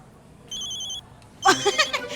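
A telephone rings during a police station scene in a Hindi comedy drama, one short electronic ring burst, fairly clear, followed by a person speaking.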